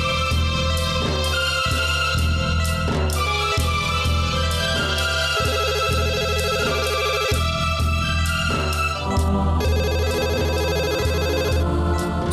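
A telephone ringtone plays on and on without being answered, a repeating musical phrase that is loud and close, with no one speaking.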